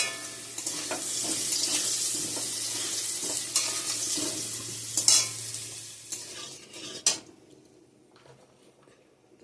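Potatoes fry in a pan with a steady close sizzle while a spatula stirs and scrapes in quick strokes, the sizzle easing toward the end with a few louder clanks.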